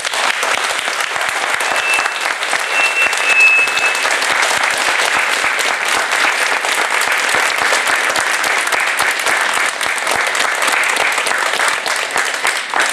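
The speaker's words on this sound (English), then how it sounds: "give a big, big, big round of applause to all of our veterans" Veterans at a Veterans Day gathering outside a Walmart in Buckhannon receive a crowd's applause: steady, dense clapping from many hands, loud and unbroken for the full length, with no voices rising above it.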